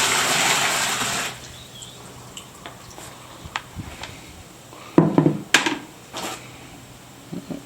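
Water from a bucket gushes and splashes loudly into a Yeti V Series cooler for about a second, then drips and knocks follow, with a few sharp clunks of a container.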